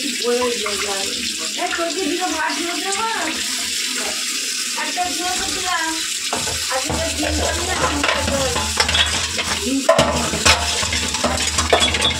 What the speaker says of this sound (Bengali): এখানে আলু কাটা রয়েছে, আলুটা ভেজে নেব